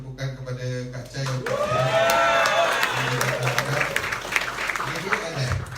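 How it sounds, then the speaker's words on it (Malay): Audience applause for Kak Chai at a training event, a broad burst of clapping that swells after a voice and holds steady for several seconds, with a speaking voice heard before it begins. "kita beri tepukan kepada Kak Chai"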